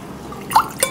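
Two quick liquid plops as water is poured into a container while making millet payasam, close and brief over a quiet background.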